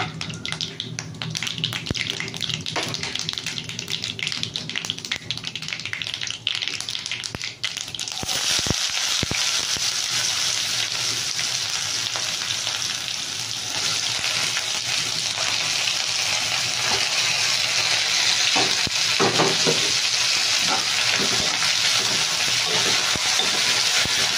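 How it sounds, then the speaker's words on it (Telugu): Thinly sliced medium onions frying in a pan for a Bombay chutney puri curry, a steady loud sizzle that shifts partway through after a brief clatter, continuing throughout without talk. "మీకు ఆనియన్ మరీ ఎక్కువగా ఫ్రై అవ్వాల్సిన అవసరం లేదండి, ఎక్కువగా ఫ్రై అయినా కూడా బాగోదు"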